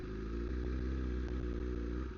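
A BMW S1000RR motorcycle rides along, its engine giving a steady, muffled mid-pitched drone with faint clatter, heard from the rider's position.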